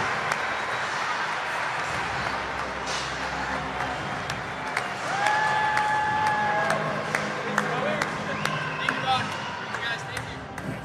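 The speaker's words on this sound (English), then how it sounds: "Give a big round of applause for Matt, Mike, Eric, and Don." Audience at a Bitcoin Conference panel in Las Vegas breaks into applause, a broad patter of clapping that swells midway, with a presenter talking over it and scattered cheers.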